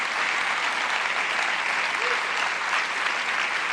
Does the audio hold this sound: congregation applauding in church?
yes